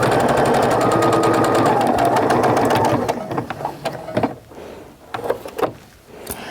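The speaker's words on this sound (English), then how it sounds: "I like to just kind of do it as I'm sewing" Sewing machine stitches fabric for a mug rug in a rapid, steady mechanical patter for about three seconds, then stops into scattered handling clicks and rustles, close up with no voices.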